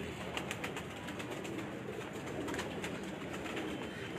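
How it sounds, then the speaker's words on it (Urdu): Ali Wala pigeons at a breeder's home in Sialkot coo continuously, a soft layered murmur from several birds nearby with occasional sharper clicks. "یہ بھی علی والا کبوتر ہے"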